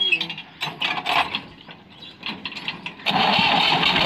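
A tractor engine in a Pakistani village cranks and sputters, then catches and runs loudly at a steady, rough idle for the last second.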